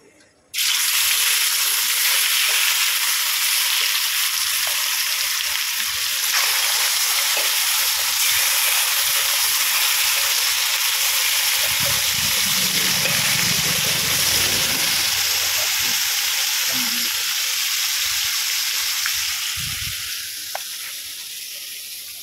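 Loud, continuous sizzling of salt-and-turmeric-coated fish frying in hot oil, a steady hiss that starts abruptly and tapers slightly toward the end.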